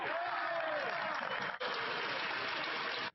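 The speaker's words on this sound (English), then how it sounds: "look at all the Liberals standing up and, of course, clapping and whatnot for that response" Liberal MPs in parliament break into sustained applause, a dense, even patter of clapping from many hands that fills the chamber, briefly dipping midway and then cutting off sharply at the end.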